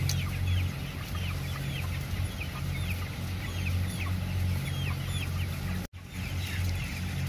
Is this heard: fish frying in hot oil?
no